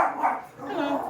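A dog barks briefly in the room, a few quick yaps mixed with a voice talking over it.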